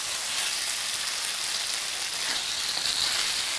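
Potatoes and pointed gourd frying with spices in oil, giving a steady, dense sizzle with a soft rain-like hiss that stays even throughout, with no talking.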